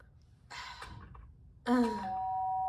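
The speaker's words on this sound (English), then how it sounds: "Ding dong." A doorbell rings in Danganronpa: Trigger Happy Havoc, two chiming tones, the second louder and held with a lingering ring.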